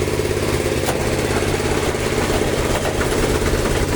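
A tractor's diesel engine, just fitted with new diesel and oil filters, idles steadily with a loud, close, low throbbing chug that never lets up, without talk.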